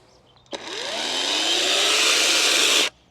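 A power saw spins up from a quick start to a steady, loud, high whine over about two seconds, then cuts off abruptly.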